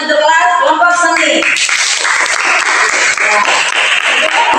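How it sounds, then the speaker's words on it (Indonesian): Following a brief spoken announcement, a classroom audience bursts into steady, close applause for an arts class group during a school presentation session, the clapping continuing evenly to the end. "Berikan tepuk tangan untuk kelas kelompok seni."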